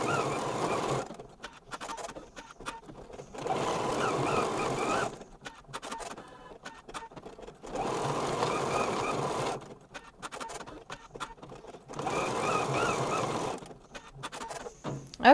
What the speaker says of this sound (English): I'm going to touch Start Stop on my machine and let it stitch the placement line.